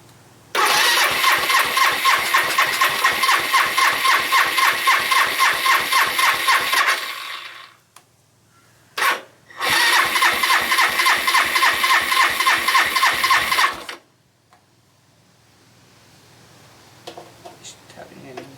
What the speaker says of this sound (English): I'm not even sure if the battery is good enough to crank the engine